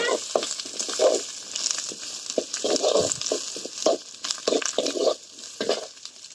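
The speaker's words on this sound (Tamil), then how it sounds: "பச்சை மிளகாய், வெங்காயம், கருவேப்பிலை நல்லா வதக்கிக்கணுங்க." Green chillies, onion and curry leaves are sautéed in a pan, with steady sizzling broken by repeated stirring scrapes and clatters close by.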